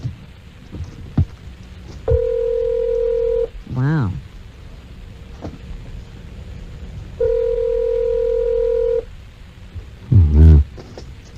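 Telephone keypad tones as a phone number is dialed: two sustained steady tone bursts separated by pauses, with brief vocal sounds and an exclamation in between, moderately loud.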